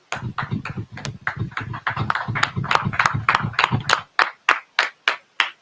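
A small group claps in a class setting, irregular and fairly close; the clapping thins to a few sharp, evenly spaced claps at the end.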